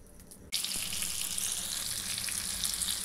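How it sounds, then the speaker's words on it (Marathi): Fish pieces drop into hot oil in a pan, and after a brief quiet moment a loud, continuous frying sizzle bursts in and keeps going, close and crackling. "आता पुन्हा आपण ते पण आपण तळून घेऊया"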